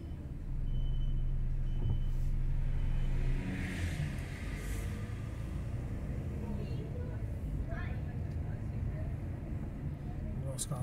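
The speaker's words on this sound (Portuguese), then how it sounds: "Os carros subindo." Cars climb a steep street in the Guaianases neighbourhood, giving a loud, continuous low engine rumble and road roar from nearby traffic that holds steady throughout.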